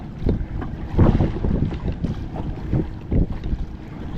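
Rowing a small boat through tidal currents off Bali, with rhythmic oar strokes and water sloshing under steady wind noise buffeting the microphone, the strokes recurring roughly every second or so.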